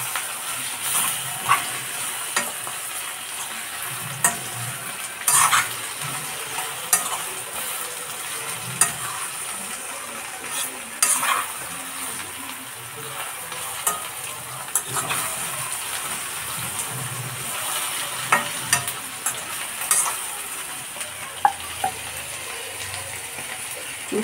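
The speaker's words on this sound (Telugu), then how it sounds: "ఇప్పుడు లైట్గా అయితే ఫ్రై అయినాయి" Bitter gourd pieces fry in oil with a steady crackling sizzle, broken by scattered scrapes and knocks as a spatula stirs them in the pan, close by and without any talk.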